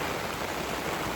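Heavy rain pouring outdoors in a village beside running stream water, a steady, dense hiss of falling drops with no voices.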